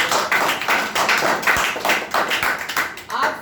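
An audience claps for a speaker at a public speaking session, a moderate, slightly uneven patter of hands that rises and dips in short waves.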